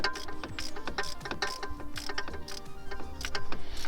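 A 13mm socket ratchet undoes a bolt holding the starter motor on a Land Rover Freelander 2, giving close, busy mechanical clicking and scraping that continues steadily throughout.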